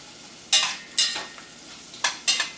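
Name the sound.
stirring salt and pepper into buffalo chicken chowder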